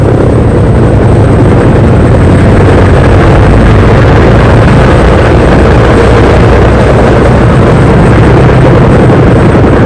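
Military helicopters on troop landing missions roar with a loud, steady, close rotor and engine drone that fills the whole span without a break.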